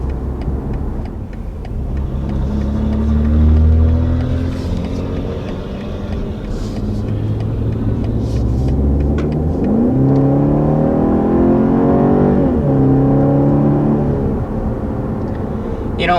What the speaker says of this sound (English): One of the things that really strikes me on that acceleration is just how quiet and refined that this ride is